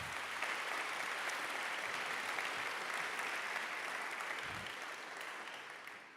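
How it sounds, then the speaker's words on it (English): Audience applause at the DuneCon conference mainstage, a steady, full roomful of clapping that holds for several seconds then begins to taper, with no voices over it. "a big round of applause for Fredrik and Mats"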